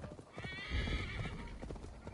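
Horse galloping in Assassin's Creed Valhalla, with steady clip-clop hoofbeats and a whinny rising over continuous game ambience, loud and close throughout.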